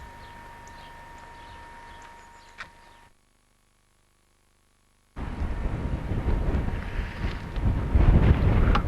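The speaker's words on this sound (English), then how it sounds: "It's very windy up here" Strong wind buffets the microphone on open moorland above the Vale of Levisham, rough gusting roar at first, a brief lull of near silence, then louder, heavier blustering.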